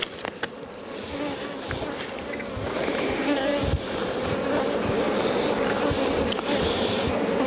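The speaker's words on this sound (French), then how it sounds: "Donc là, je vais enlever les abeilles" Honeybees buzzing around an open hive during a spring inspection, a dense, steady hum of many bees close by, with occasional handling noises and brief louder passes.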